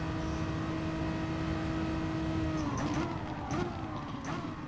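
Racing car engine in a Gran Turismo-style Gr.4 racing video game, a sustained high whine that drops and fluctuates as the revs change, with quick blips toward the end, loud and continuous without talk.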